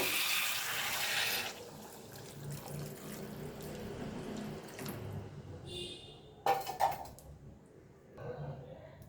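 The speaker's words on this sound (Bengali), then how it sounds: "এবারে আমি একটু জল গরম করে রেখেছিলাম, এই গরম জলটা পরিমাণ মতো দিয়ে দেব।" Hot water is poured into a rohu fish curry with potatoes and fried spice paste in a kitchen pan. A brief, loud splashing pour comes first, then it settles into quieter bubbling with a few light clinks near the end.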